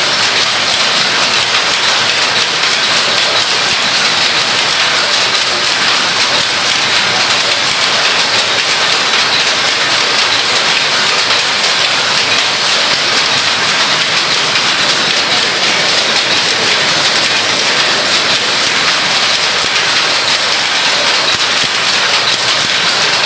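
Two power looms weaving sarees in a Tamil Nadu workshop, making a loud, dense, continuous mechanical clatter with a rapid, even beat throughout.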